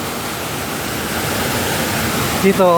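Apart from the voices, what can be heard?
water flowing at World Trade Center memorial pool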